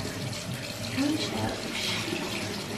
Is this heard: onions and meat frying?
no